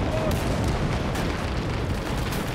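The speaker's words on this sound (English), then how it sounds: "We've got some nice explosions here." Dense, continuous rumble of rear artillery explosions and burning Soviet tanks in a World War II siege of Königsberg battle in Call to Arms: Gates of Hell, booming loud and unbroken throughout.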